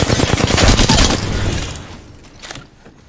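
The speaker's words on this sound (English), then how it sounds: "I'm taking shots." Dense automatic gunfire in the battle royale video game Apex Legends, a loud rapid burst of shots that fades into scattered fainter bursts and echoes over about three seconds.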